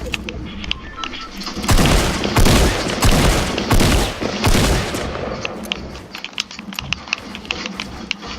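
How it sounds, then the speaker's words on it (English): Gunfire in a video game, including sniper shots, a loud dense barrage in the middle easing into scattered sharp cracks and clicks, close and continuous with no talking. "See, now I'm getting sniped at."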